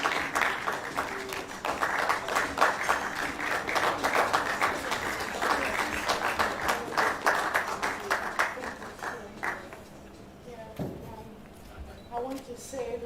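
An audience at a university debate keeps clapping for Dr. Bola as she arrives, sustained dense applause that thins out near the end, with voices and scattered claps at the close.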